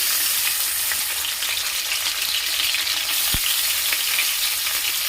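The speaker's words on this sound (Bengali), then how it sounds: "এই তেলের মধ্যে দিয়ে দিচ্ছি টমেটোর কুচি" Chopped tomato hits hot mustard oil in a kadai with whole garam masala sticks, giving a loud, steady, dense sizzle that holds throughout, with one brief low thump partway.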